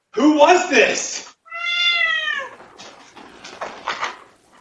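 A cat meows in a few drawn-out, wavering calls, loud and close, separated by short pauses, with a person talking in between and over the last part.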